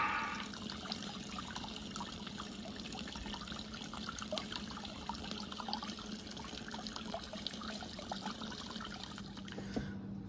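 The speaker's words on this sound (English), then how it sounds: "so after 10 minutes we'll empty this into the fermenter, top it up with cold water" Cold water and coffee-doughnut oatmeal stout wort pour steadily into a beer fermenter for a home brew, giving a continuous close rushing, trickling wash with no pauses.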